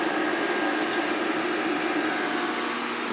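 An SWG power venter motor on a heating system runs with a bad squeal, a steady droning whine with a high-pitched tonal edge, close and continuous throughout.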